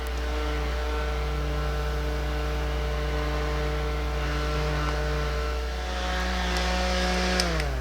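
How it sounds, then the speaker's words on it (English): A small handheld fan whirs continuously close by, a steady motor drone with a faint hum, blowing to dry freshly applied makeup on skin. "Take my fan, my handy dandy fan, get this nice and dry."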